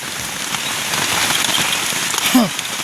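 Heavy rain pours down steadily in a forest, a dense, continuous hiss of drops pattering on a surface nearby.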